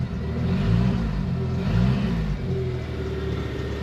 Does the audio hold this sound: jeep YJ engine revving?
yes